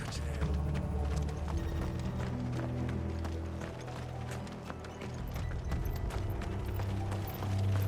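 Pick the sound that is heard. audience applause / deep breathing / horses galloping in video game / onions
horses galloping in video game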